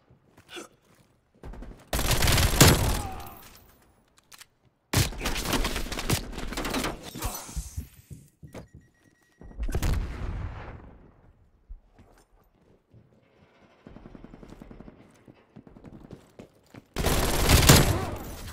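Mac-10 submachine gun fire in Call of Duty Black Ops Cold War, loud rapid bursts repeating in separate volleys with quiet gaps between them, no voices.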